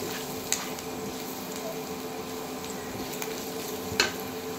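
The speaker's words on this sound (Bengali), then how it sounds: "এবার ভালো করে মিশিয়ে নেব।" Spices frying in a pan for masoor dal bora curry are stirred, giving a steady low sizzle with a few soft scrapes and knocks of the utensil, close by and with no talk.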